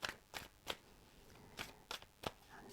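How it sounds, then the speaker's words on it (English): Tarot cards being shuffled by hand in a quiet room: several crisp, brief riffling bursts arrive at irregular intervals, close and fairly soft, with no talking. "I am going to start shuffling the cards"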